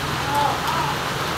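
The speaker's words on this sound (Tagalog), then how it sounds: "Maulan na umaga." Steady morning rain in Upper Magsaysay, a continuous even hiss of falling drops that fills the whole stretch at moderate loudness, with faint background hum and no clear voices.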